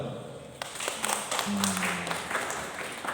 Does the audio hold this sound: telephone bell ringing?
no